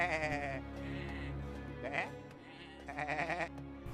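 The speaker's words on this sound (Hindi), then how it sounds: "निखिल के पास बहुत ही कम और कमजोर बकरियां थीं" Goats bleat on a village farm, several loud wavering calls in quick bursts, with other voices and background sound running underneath.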